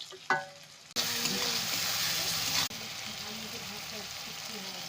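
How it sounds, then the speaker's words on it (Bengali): Spices with tomato fry in a pan as they are stirred, a hiss that breaks in abruptly, holds loud and steady, then drops to a softer sizzle, with a brief voice at the start. "মশলা দিয়ে ভালো করে এরকম কষিয়ে নেব"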